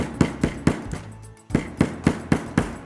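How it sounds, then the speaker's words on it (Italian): Hammer strikes driving nails into a wooden board for a string-art piece, a steady series of sharp, close knocks with a short pause in the middle, no talking. "di martellare più o meno alla stessa altezza"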